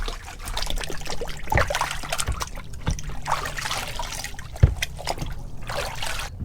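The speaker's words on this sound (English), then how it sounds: "Give this one more thorough wash." Warm water trickles and splashes while a K&N washable air filter is rinsed clean, a steady close dribbling with a few louder splashes and a sharp knock partway through.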